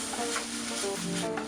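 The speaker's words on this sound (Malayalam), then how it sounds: "ഇത് നന്നായിട്ട് വഴറ്റി അതിൻ്റെ എണ്ണയൊക്കെ ഒന്ന് തെളിഞ്ഞു വരണം." Spice paste masala sautéed and stirred in hot oil for a fish molee gravy, a brief close, continuous sizzle with soft scraping strokes, no voices.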